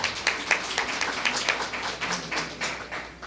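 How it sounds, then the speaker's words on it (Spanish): A modest round of applause from a small audience at a history congress closing ceremony, steady scattered clapping at moderate loudness, tapering slightly toward the end. "Un aplauso por ella, por favor."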